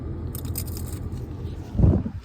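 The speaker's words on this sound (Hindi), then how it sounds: "क्रंच क्रंच आवाज़ आ रही है।" A single crunchy bite into a fried chicken samosa, loud and close, near the end of a short stretch of quiet background murmur.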